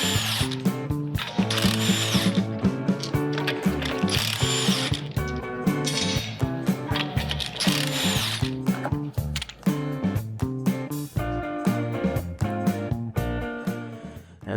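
Power tools remove the wheels from a Honda Accord, with repeated loud ratcheting bursts of an impact driver on the lug nuts, close and rhythmic with short pauses between runs.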